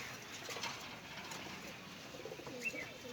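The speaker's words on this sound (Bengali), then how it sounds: "খুবই সুন্দর কবুতরগুলো।" Pigeons cooing softly in a quiet setting, faint low calls over light background hiss, with no talk.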